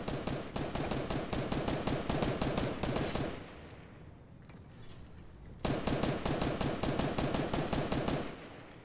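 Rapid automatic gunfire in Fortnite on Nintendo Switch, with two long bursts of evenly spaced shots separated by a quieter gap of a couple of seconds.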